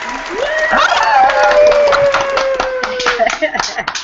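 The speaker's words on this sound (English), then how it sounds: "I have a clap for you." A few people at a casual home hangout clap together, brisk sharp claps with a sustained tone and voices chatting alongside.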